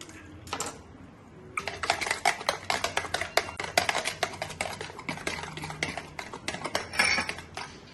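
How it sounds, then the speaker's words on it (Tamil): An egg being beaten for chicken 65 batter, a fork or whisk clicking rapidly and unevenly against a bowl, close and crisp, with a brief pause before the fast tapping starts. "இப்போ chicken 65க்கு ஃபர்ஸ்ட் ஒரு எக் பீட் பண்ணிக்கலாம்"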